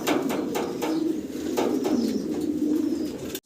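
Fancy pigeons at a farm loft coo in repeated soft throaty calls, several birds overlapping in a close, busy chorus.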